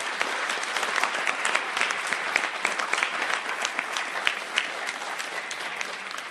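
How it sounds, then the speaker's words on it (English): Steady applause from a sizeable crowd, dense clapping continuing evenly throughout with no voices standing out. "So please give Teresa a round of applause"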